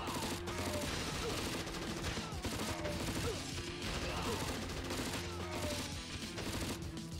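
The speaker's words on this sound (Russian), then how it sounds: "Пехотинцы теперь стреляют из РПГ и метают гранаты." Dense, continuous battle noise from infantry in the video game Crysis firing RPGs and throwing grenades, with steady crashing shots and blasts layered over a constant loud roar and a droning music bed.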